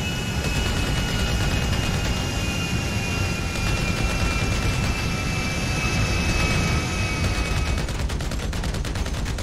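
Roaring jet engines of a burning airplane in the video game GTA 5, a loud continuous whine and rumble throughout, joined near the end by a rapid crackling burst like gunfire or fire.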